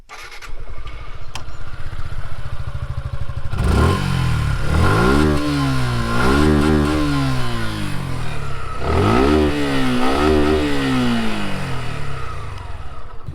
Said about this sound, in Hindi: अब इसका एग्जॉस्ट नोट सुन लेते हैं